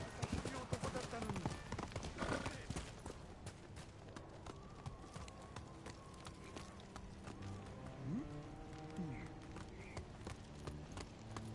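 Horse hooves gallop steadily in Ghost of Tsushima with a quick, continuous clip-clop rhythm, faint and close, carrying on through the whole stretch while someone talks over it.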